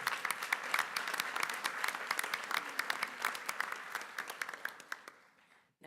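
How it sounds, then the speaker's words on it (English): A school board meeting audience claps for a state championship team, many hands in a brisk, crackling round of applause that stays strong, then thins and fades away near the end. "Let's give them another round of applause."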